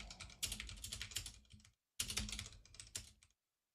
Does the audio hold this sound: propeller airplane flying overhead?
no